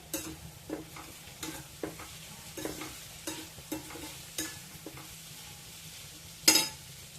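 A spoon scrapes and stirs in a pan at a steady rhythm over a soft sizzle of a tablespoon of heating oil for tempering, ending with a sharper clink near the end.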